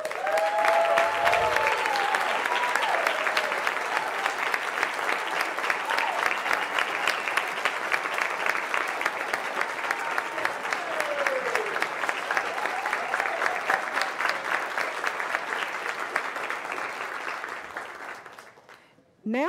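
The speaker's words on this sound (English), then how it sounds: "would all the finalists please stand so we can give all of you a final round of applause" A large audience applauds finalists at the 2022 North Carolina Teacher of the Year ceremony. The dense, steady clapping carries on for about eighteen seconds, with a brief voice near the start, then quickly dies away.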